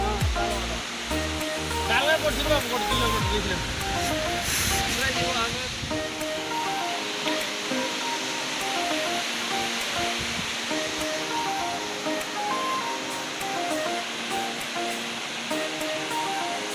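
Bhairaghumar waterfall, a steady rushing roar of falling water that fills the scene, with a burst of other noise and voices near the start before the water continues alone.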